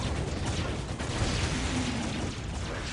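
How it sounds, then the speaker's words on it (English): Dense, continuous battle noise from weapons fire in Dawn of War Ultimate Apocalypse, a dense wash of booms, pops and mechanical clatter with no clear pauses, loud and steady throughout. "Will be very quickly shot down by a very strong wall of fire here."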